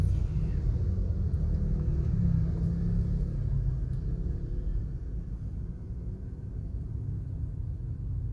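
Car traffic idles and creeps on a new bridge between BGC and Capitolyo, Pasig, heard from inside a stopped car as a low, steady engine rumble that slowly fades a little.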